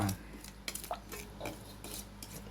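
A utensil stirs a Thai yum noodle dressing of seasonings and boiled water in a bowl, with soft irregular scraping and light clinks close by, faint under a low background hum.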